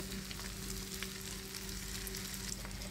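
Eggs fry in a pan with turmeric and a sprinkle of salt, giving a steady, close crackling sizzle with fine spattering pops and no voices.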